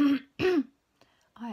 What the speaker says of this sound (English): I am always clearing my throat.